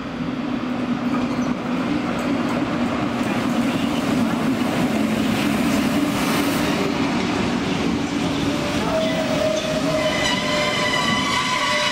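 A Rhaetian Railway Regio-Express train runs steadily at close range, a loud continuous rumble of wheels on rails with rising metallic squeals and whines partway through, and no voices.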